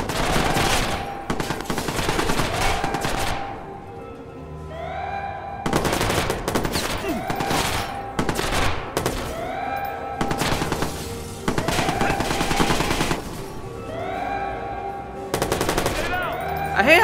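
Sustained bursts of rapid automatic gunfire in Watch Dogs, loud and close, repeating in several volleys with brief pauses between, while ringing game effects sound through the gaps.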